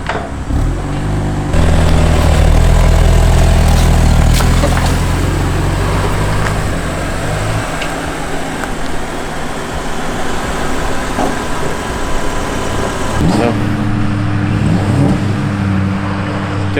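BMW F80 M3 fitted with an equal length midpipe idling on a cold start with valves closed, a loud steady burbling rumble that shifts down slightly partway through, close up with no talk.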